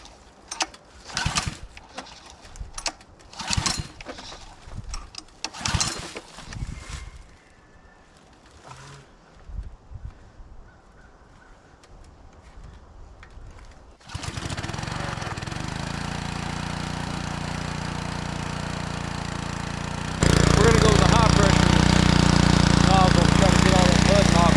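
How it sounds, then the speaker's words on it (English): An abandoned OBS Ford F250 with a 7.3 liter turbo diesel: scattered clanks and knocks of work first, then the engine cranks and settles into a steady, rough running drone that grows suddenly louder near the end. "let's see if we can get this bad boy to crank."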